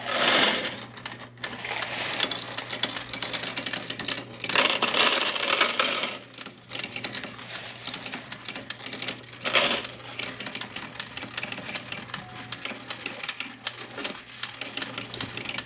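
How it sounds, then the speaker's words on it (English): Royal Sovereign 4 row coin sorter whirring as it feeds coins into tubes, a busy mechanical rattle of clinking and clattering coins with short pauses and bursts of louder jangling throughout. "I'll dump a few more in there so you can see how the machine just keeps feeding coins into further tubes."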